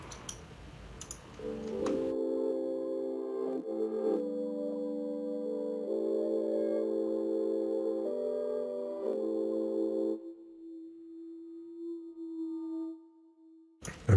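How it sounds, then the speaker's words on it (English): Reversed bell melody programmed in FL Studio for an ambient R&B beat, sustained swelling tones stepping through several chord changes, then thinning to a single held note that fades out near the end. "I added this bell. It's like a reverse bell."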